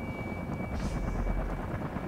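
Helicopter in the video game Far Cry 3 flying low, a steady, loud rotor and engine drone throughout with a constant whine, no voices over it.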